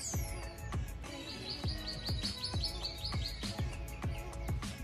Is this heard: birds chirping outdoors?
yes